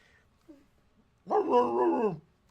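A dog lets out a drawn-out, high whining whimper, close by, after a brief faint yip.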